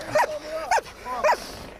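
A police dog barks three sharp times, close and fairly loud, with short whining yelps between the barks.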